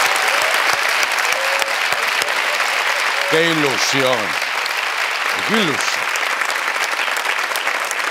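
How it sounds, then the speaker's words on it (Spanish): A late-night television studio audience applauds throughout, a steady, full wash of clapping while someone speaks over it in a sing-song voice partway through. "Un aplauso para ellos."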